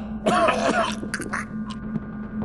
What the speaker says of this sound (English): Makes it difficult for them to do anything other than cough for a short period of time.